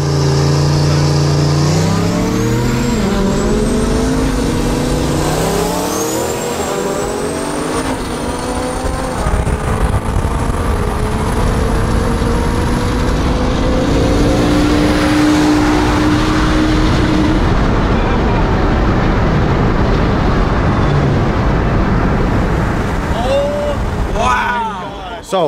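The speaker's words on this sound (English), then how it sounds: "Gavin, we did a 50 roll and I was spinning the whole way until 100" Two trucks race from a rolling start with their engines revving hard and tires spinning, a loud sustained roar of rising engine pitch that continues throughout.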